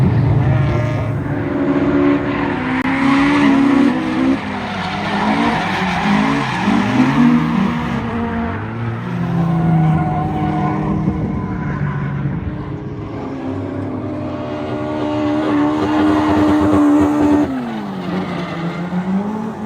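A Toyota AE86 with a 20-valve engine swap drifts on a race track, its engine revving loudly and rising and falling while the tires squeal in long sweeping bursts, close and unbroken.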